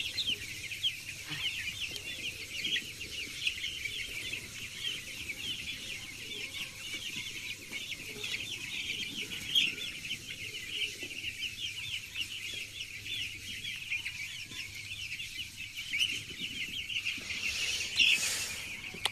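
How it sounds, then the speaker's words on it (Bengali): A flock of chickens clucks together in a constant, dense chatter of soft overlapping calls that runs without a break, with no voices. "এখানে দেখুন সবগুলো মুরগি কিন্তু একসাথে ঘুমাচ্ছে"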